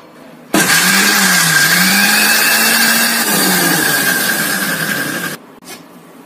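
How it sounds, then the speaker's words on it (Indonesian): A blender whirs loudly and steadily for about five seconds, starting abruptly and cutting off, with a slight dip in motor pitch partway through. "ini kita haluskan menggunakan blender ya atau menggunakan food chopper juga boleh"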